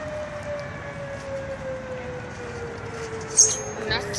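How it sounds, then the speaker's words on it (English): Tornado civil defense sirens wail outdoors as a funnel cloud grows, a long steady tone gliding slowly downward at a distance, with a brief louder knock near the end. "There's the sirens again."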